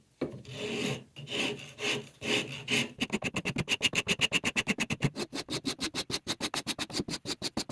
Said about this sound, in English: now I'm going to smooth it out with the rasp